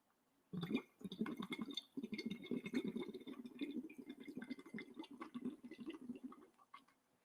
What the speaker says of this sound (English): So you get your drink of water and blow bubbles.